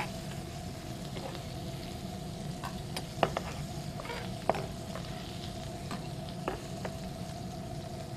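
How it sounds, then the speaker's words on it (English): Scallions fry in a pan for buffalo shrimp, making a quiet, even sizzle with scattered sharp pops and clicks of stirring. "So I'm just going to get some scallion in here."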